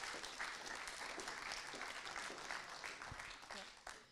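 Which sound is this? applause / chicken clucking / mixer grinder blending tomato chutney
applause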